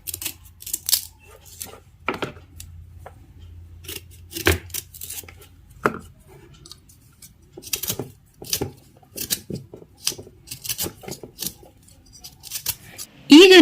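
A knife chops peeled beetroot into small pieces, giving sharp, irregular taps in short bursts with pauses between them. A voice is heard faintly at times.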